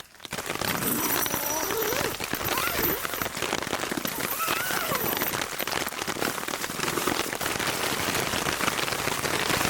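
Heavy rain pounds steadily on a Hilleberg Niak tent during a storm, a dense, continuous close patter with no break.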